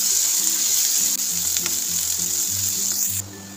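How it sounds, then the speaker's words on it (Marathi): Onion fries in a pan for a cashew curry, a steady close-up sizzle with faint stirring scrapes throughout, no voices. "कांदा सुद्धा आपल्याला गोल्डन ब्राऊन कलरचा होईपर्यंत भाजू द्यायचा आहे"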